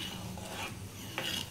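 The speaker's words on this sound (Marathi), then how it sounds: "ती सर्वात प्रथम आपल्या तुपामध्ये छान अशी भाजून घ्यायची आहे।" Cracked wheat roasts in ghee for sweet laapsi, a soft continuous sizzle with a light stirring scrape and a brief rasp near the end.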